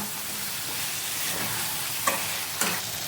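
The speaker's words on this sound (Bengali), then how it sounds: "এটা কষাতে হবে, এখন কিছুক্ষণ হাতে সময় রেখে এটা কষিয়ে নিতে হবে।" Chicken for biryani is sautéed in a pan, a steady hiss of frying punctuated by two sharp clinks as it is stirred, with no voices.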